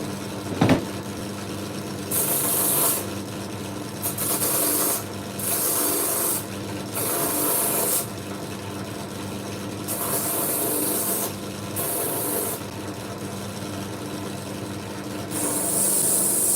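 A poured copper piece is sanded by hand in repeated bursts of gritty rubbing, each lasting one to two seconds with short pauses between. The strokes are close and fairly loud, and a single sharp knock comes near the start.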